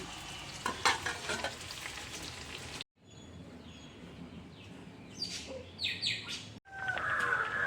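Koorkka (Chinese potato) cooks in a pan on the stove with a steady sizzle and stirring scrapes, while birds chirp faintly nearby; the sound cuts off briefly twice.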